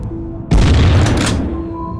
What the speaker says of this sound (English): often broken by the deafening sounds of weapons